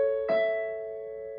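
A happy three-note major chord is played once on a clean, bright keyboard-like tone, struck at once and held steadily as it slowly fades, sustained alone with no voices.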